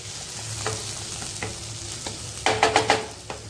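Onion sautés in oil in a pan for spicy egg ghotala, a continuous close sizzle broken by several scraping stir strokes, with a quick run of four louder scrapes toward the end.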